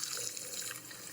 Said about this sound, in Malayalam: കുറച്ച് കൂടുതൽ വെള്ളം ഒഴിച്ചെടുക്കാം.